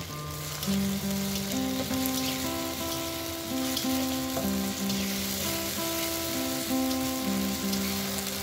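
Ginger garlic paste fries in hot oil with a steady, close, crackling sizzle that holds even throughout, under continuous background music.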